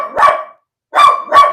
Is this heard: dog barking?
yes